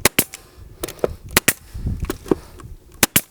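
Trim nail gun fires a rapid series of sharp, loud cracks during door trim installation, with irregular bursts and short pauses between shots, heard alone.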